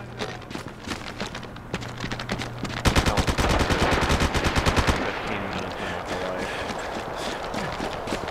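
Gunfire in the online shooter MAG, rapid bursts of automatic fire crackling close and loud, densest in the middle, with scattered shots and a voice speaking around them.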